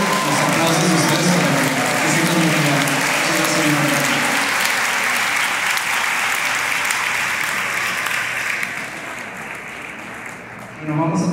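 Sustained audience applause after a municipal orchestra concert, a dense wash of clapping that holds steady for several seconds, then thins and fades toward the end.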